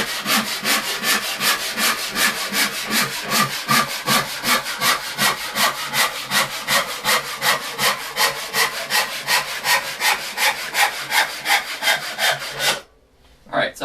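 Fast, regular strokes of a hand saw cut through wood on a saw bench, a loud, close rasping rhythm of roughly three strokes per second that continues steadily, then stops abruptly near the end.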